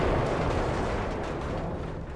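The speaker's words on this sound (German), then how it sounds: "Man fährt mal gegen den Stein und es explodiert" A vehicle explodes after hitting a stone in Battlefield 1, a loud close blast with a rumbling, crackling tail that fades over about two seconds.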